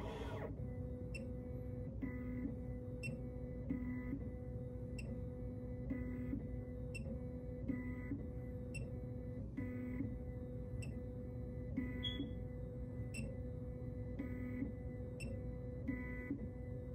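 An XHorse Condor XC-Mini Plus key cutting machine decodes a key, giving a faint steady electrical hum broken by regular soft ticks and clicks as the probe steps along the blade.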